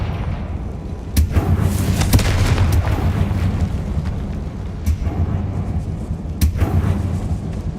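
Confringo blasting spell exploding in the Hogwarts Legacy video game, with several sharp booming blasts spread across a continuous rumbling, crackling bed of loud game noise, close and heavy.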